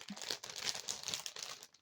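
A small piece of plastic crinkled steadily for under two seconds, close and continuous, a dense bright rustling that barely pauses, with no voices.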